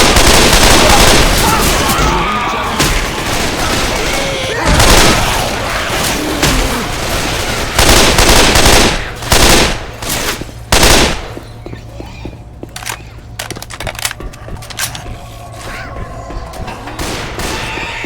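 Gunfire in the zombie shooter Left 4 Dead 2 arrives as rapid, loud bursts of shots, dense at first and then breaking into separate cracks and pauses. A brief voice is heard under the shooting.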